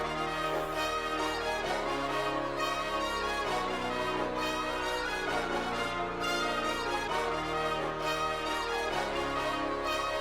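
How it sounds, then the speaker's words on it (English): Trap melody with brass stabs and a synth lead playing over a dense, continuous beat, loud and full from start to end without any voices. "You have the brass, and then you have this synth lead."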